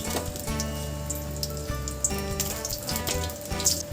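Half a spoon of nigella seeds and two dried red chillies sizzle in hot oil, a steady close crackle with spitting pops. A tonal hum runs underneath, and no one speaks.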